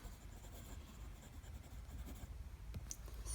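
A Wingsung 3013 fountain pen with a medium nib and Atramentis ink writing on Clairefontaine paper, giving a faint, continuous scratchy rustle of nib on paper with a couple of small clicks near the end, and no speech.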